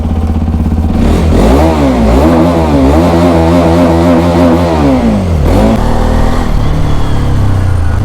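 An off-road motorbike ridden in the rain, its engine loud and close, revving and climbing in pitch, then dropping back, with no talking over it.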